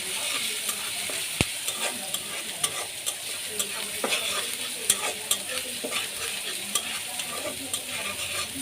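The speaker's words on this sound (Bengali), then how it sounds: "ওই যে আলু বেগুনটা লাল করে ভাজব, না ভাজলে ভালো লাগবে না খাইতে" Potato and eggplant pieces fry in hot oil to a reddish brown, giving a close, crackling sizzle. Regular clacks and scrapes of a spatula stirring the pan punctuate it.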